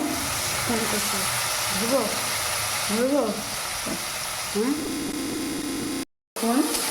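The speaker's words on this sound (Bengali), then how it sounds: "এইভাবে ভাজা করতে হয়" Egg and sesame frying in a pan, with a steady broadband sizzle that runs throughout under a voice talking over it, broken by a short gap near the end.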